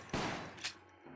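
Gunfire in Resident Evil: The Umbrella Chronicles, Mansion Incident, as a samurai weapon fires: two sharp, loud bursts about half a second apart, the first longer, followed by a quieter tail.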